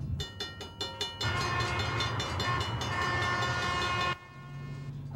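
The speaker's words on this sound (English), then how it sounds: "Oh, shoot, there's a train." A train rolls past at a crossing, starting with a few rhythmic clacks, then a loud sustained rumble with horn-like tones for about three seconds before dropping off abruptly to a quieter background.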